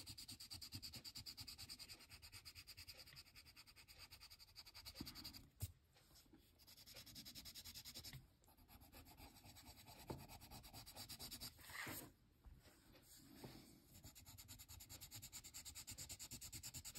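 A colored pencil blender rubs back and forth across paper while a zebra drawing is shaded, making a quiet, close, continuous scratchy rubbing with a few brief pauses and louder strokes.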